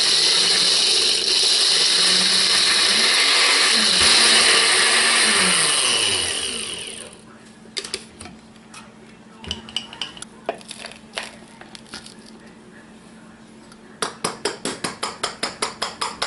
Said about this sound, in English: the first thing I'm going to grind is just the meat by itself